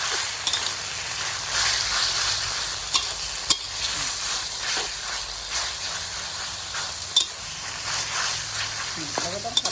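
Pork stir-fried in a hot pan for a Thai long-bean curry stir-fry, a steady loud sizzle with occasional sharp clinks of the spatula against the pan, close up and continuous.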